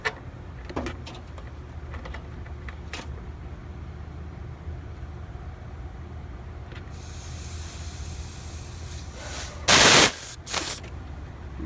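Air conditioning gauge hoses are purged, with a quiet background hum, then a sharp burst of gas spraying near the end followed by a shorter second burst.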